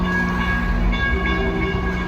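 A small train passes in Portland with a steady loud rumble and sustained tonal hum, continuous throughout with no talking.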